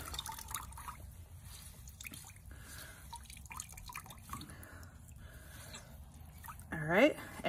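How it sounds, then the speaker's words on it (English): Beneficial nematode solution trickles and drips from a bag as it is wrung out, a faint wet dribble under low background noise, ending with a brief louder squeeze and a breathy vocal sound. "pull this out and just wring it out to get the rest of all those microscopic organisms out of there"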